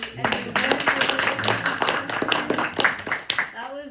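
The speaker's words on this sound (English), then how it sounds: "can we just get another round of applause for Julie?" Members at a Toastmasters meeting give a round of applause, a moderate patter of clapping hands mixed with voices talking over it throughout.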